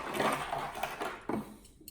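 Short bursts of a sewing machine edge stitching, a buzzing mechanical whir that starts and stops over a couple of seconds, close by.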